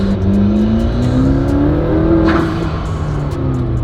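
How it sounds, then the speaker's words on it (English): A car on brand-new tires accelerates hard to warm them, its engine droning loudly and steadily and its pitch rising, with no talking. "Oh, we gotta warm up the tires again."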